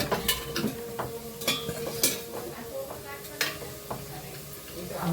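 Sev fries in hot oil toward golden brown, a steady sizzle under repeated sharp clinks and scrapes of a utensil against the pan, close and fairly loud.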